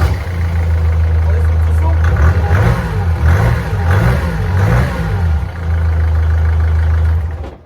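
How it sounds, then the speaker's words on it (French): A Mercedes car engine, partway through conversion into a buggy, runs loud and close, its deep hum rising and falling in several revs before settling back to a steady idle. "allez, un petit démarrage"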